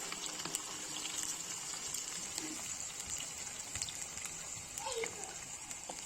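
Four chicken lollipops frying in hot oil in a kadai over a high gas flame, giving a steady, dense sizzle and crackle that stays even throughout, with no talking over it.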